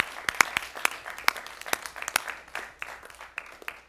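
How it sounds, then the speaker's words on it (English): Applause from a student government general assembly crowd, a short round of clapping with dense overlapping claps and a few sharper individual hits, moderately loud and fading slightly toward the end. "a little round of applause for an awesome retreat this weekend"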